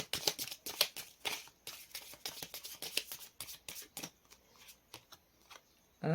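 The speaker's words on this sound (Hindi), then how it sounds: "ये कार्ड्स ना बहुत ही ज़्यादा स्मूथ हैं, इतनी जल्दी शफल हो जाते हैं" Smooth tarot cards being shuffled quickly by hand, a rapid run of crisp riffling flutters and soft slaps, close and fairly loud, ending with a brief louder thump.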